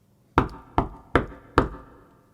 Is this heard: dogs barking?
no